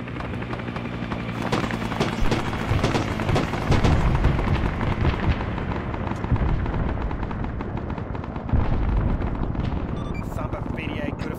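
Arma 3 battle with dense gunfire and heavy artillery blasts, loud and continuous, booming impacts and rattling shots layered over a constant roar, with radio-style voices talking over the combat.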